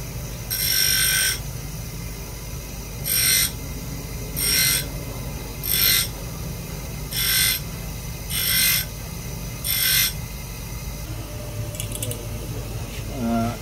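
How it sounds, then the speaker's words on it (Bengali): A machine carves a conch shell bangle in a workshop, with about seven evenly spaced bursts of shrill grinding over a constant low motor hum. "এখন মেশিন দিয়ে করতেছি এগুলো"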